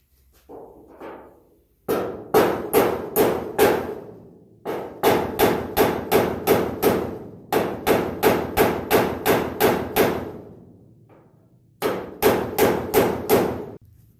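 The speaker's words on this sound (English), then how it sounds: "I bent it by using a hammer and dolly" Rapid, sharp hammer-and-dolly blows ring on a metal drip rail trim from a 1964-74 GM A-body car, in three bursts of steady strikes separated by brief pauses, loud and close.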